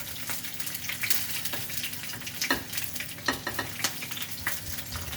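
Green chilli and chana dal fry in hot oil in a pan, a steady close sizzle broken by sharp scraping clacks of a spatula as the mix is stirred several times.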